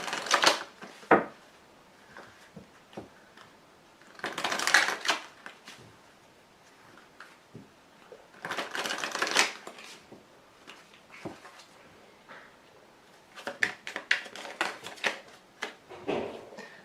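Tarot cards being shuffled and laid down, heard as scattered soft taps and a few louder bursts of riffling paper, fairly quiet and close with no talking.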